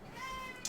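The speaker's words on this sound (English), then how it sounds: "All right, I'm gonna feed this cat." A cat meows for food, one short rising mew heard up close and fairly quiet, with no talk.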